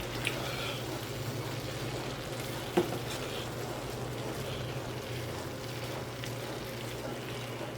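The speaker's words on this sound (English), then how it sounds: "a teaspoon of fresh thyme, a tablespoon of sage. I'm going to stir that all in" Fresh thyme and sage sizzle in a hot pan while being stirred, a steady soft frying hiss with faint scraping and one brief clink of the utensil, heard alone without talk.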